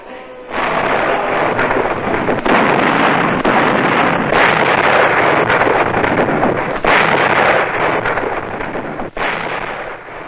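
Artillery salute guns and rockets booming over Moscow in celebration of wartime Russian victories, a dense, continuous rumbling roar of overlapping blasts with a few sharper cracks, loud and sustained throughout.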